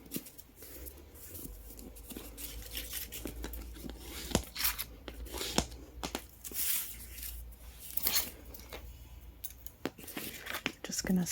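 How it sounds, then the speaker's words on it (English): Scissors snip into fabric corners in a run of quick, close cuts and crisp clicks, with paper and fabric rustling between them under a soft voice talking. "Just going to snip into those corners to reduce a little bit of that bulk."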